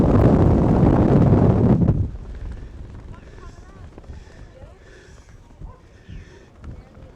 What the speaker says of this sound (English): Very, very windy, I guess you can tell.